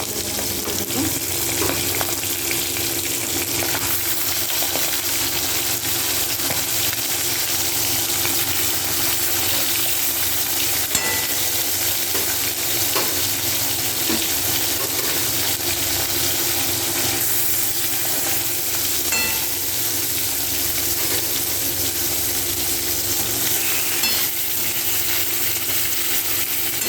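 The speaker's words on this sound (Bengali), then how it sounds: "এই মাছগুলো ভেজে তুলে নিয়ে বাকি মাছগুলো দিয়ে দেবো।" Masala fish fries in a pan of oil, giving a steady, close crackling sizzle that runs unbroken throughout, with faint watery undertones and no clear talking.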